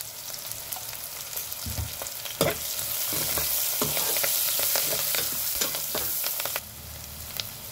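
Fenugreek and dwarf copper leaves fry with turmeric and ginger garlic paste in a pan, giving a steady close sizzle with scraping stirs and soft clatter throughout, no voices.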